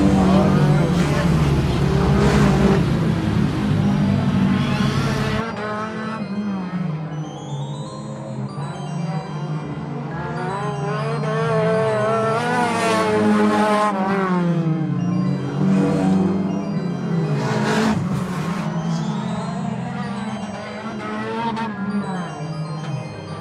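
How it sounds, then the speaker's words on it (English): A small remote-control toy car drives with a steady, whining electric motor buzz that rises and falls in pitch as it speeds up and slows, continuous and fairly loud throughout. "And this has been today's unboxing of Siarra's new RC car"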